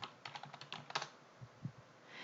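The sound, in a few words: typing a file name on a computer keyboard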